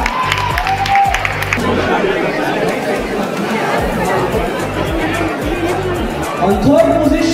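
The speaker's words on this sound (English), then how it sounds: "Let's have a round of applause for her." An auditorium audience at a university Ganesh Chaturthi event claps and murmurs in a loud, sustained wash of applause and crowd chatter that continues throughout.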